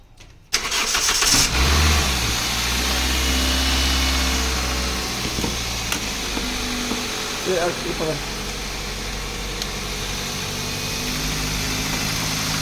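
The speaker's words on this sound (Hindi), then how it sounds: "गाड़ी स्टार्ट कर।" A car engine is started during a fuel pump check. It cranks briefly, catches and settles into a steady idle for the rest of the clip, with faint voices nearby.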